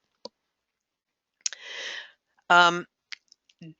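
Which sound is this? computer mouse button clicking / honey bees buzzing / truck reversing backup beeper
computer mouse button clicking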